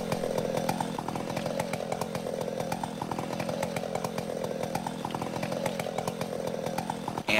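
A string trimmer engine from the Farming Simulator 2015 game buzzes continuously with a rough, pulsing two-stroke drone, steady and fairly close throughout.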